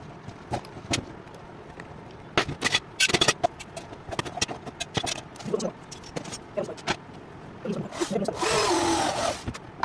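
A power drill drives small screws into an egg-turning incubator tray in short, sharp bursts of whirring, with clicks and handling noises between them and a louder, longer burst near the end.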